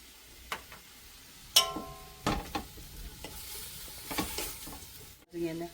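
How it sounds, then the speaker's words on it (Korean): Beef and garlic stir-frying in a pot for seaweed soup give off a low sizzle, broken by sharp clatters and scrapes of a utensil against the pot at irregular intervals. "이거 얼마나 이렇게 볶아야 돼? 고기 피가 이게 핏기가 조금 어느 정도 가실 때까지."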